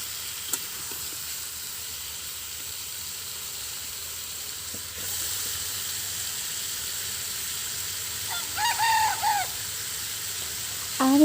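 Curry sizzles steadily in a pan on a clay stove in a village kitchen, a constant soft frying hiss with light stirring, then a rooster crows nearby toward the end.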